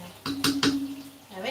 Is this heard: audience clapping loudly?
no